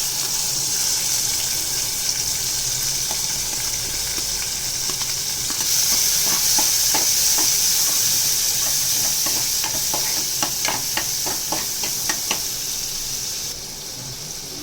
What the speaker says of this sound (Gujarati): પછી આપણે ટમેટાં નાખશું બારીક સમારેલા